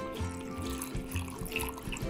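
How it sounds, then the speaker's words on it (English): Tap water runs steadily into a mac and cheese cup, a continuous splashing pour at close range that carries on throughout without any talk. "And you see that line in there? We gotta fill that up with water."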